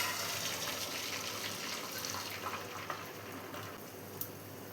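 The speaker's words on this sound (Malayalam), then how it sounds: "ഇതിലോട്ട് ബീറ്റ് ചെയ്ത് വെച്ച് എഗ്ഗ് ചേർത്ത് കൊടുക്കാം" Beaten egg poured into hot sunflower oil in a pan gives a steady, soft broadband hiss throughout, with a few faint clicks near the end and no talking.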